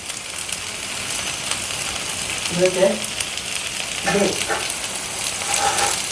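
Chicken sizzles and crackles steadily in a small amount of hot oil, close by, with a couple of brief soft scraping stirs partway through.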